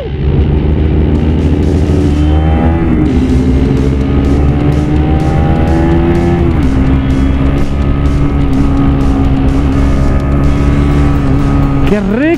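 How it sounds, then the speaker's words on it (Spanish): Bajaj Pulsar NS 200 motorcycle engine running loud and close, with a steady idle hum that rises and falls through several rev sweeps and a sharp blip at the end. "¡Qué rico se siente este motor!"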